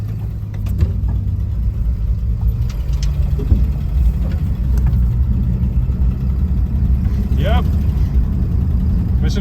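A 1966 Plymouth Valiant on a test drive, its engine a steady low rumble with road and body noise throughout, a few brief knocks and a rising whine near the end.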